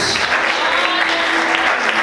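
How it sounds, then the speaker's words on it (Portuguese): Church congregation clapping loudly and steadily at close range during a worship service, a brief burst of dense applause. "Vamos aplaudir Jesus bem forte."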